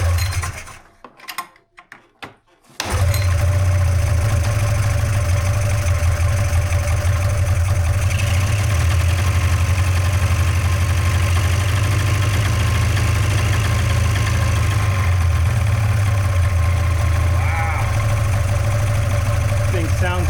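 A snowmobile that sat broken for years idles steadily after a restart, a loud, even low engine drone with a constant hum, following a few seconds of brief sputtering and silence.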